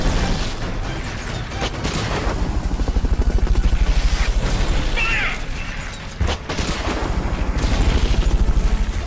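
Battle din in Metal Gear Solid Peace Walker, with a constant loud throbbing engine, heavy gunfire and explosive booms layered densely throughout, briefly dipping before resuming.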